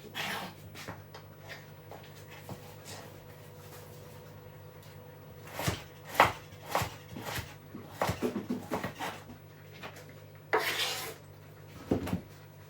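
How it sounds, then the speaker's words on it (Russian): Knife chopping carrots on a cutting board while cooking plov, a string of close taps and thuds, sparse at first then bunched in quick bursts over a steady low hum. "Все, морковку нарезала."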